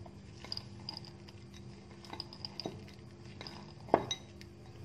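A spoon stirring pineapple, peanuts, chili powder, salt, mint and coriander in a bowl, giving faint scattered clinks and scrapes with one sharper knock near the end.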